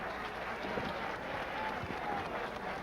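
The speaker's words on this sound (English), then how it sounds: "Another nice round of applause" Steady audience applause fills a boxing arena, broad and even with a distant crowd murmur underneath, at moderate loudness throughout.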